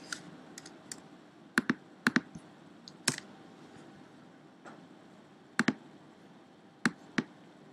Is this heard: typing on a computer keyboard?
yes